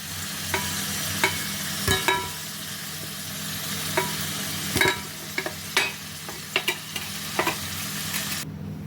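Potatoes fry in oil in a kadai, sizzling steadily while a utensil scrapes and taps against the pan every second or so.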